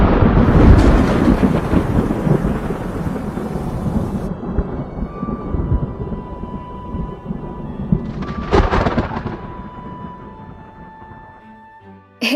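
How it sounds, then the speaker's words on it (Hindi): A loud thunder crack booms over heavy rain, then the rumble rolls away into steady rainfall, with a second sharp burst partway through and no voices. "तभी बहुत तेज बिजली कड़कने की आवाज आती है।"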